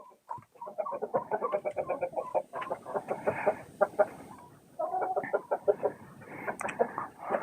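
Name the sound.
chickens clucking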